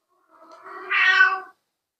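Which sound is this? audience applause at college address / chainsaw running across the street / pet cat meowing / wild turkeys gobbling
pet cat meowing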